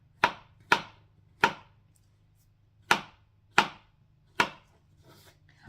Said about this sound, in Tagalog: Ganito ang paghiwa ng mushroom, guys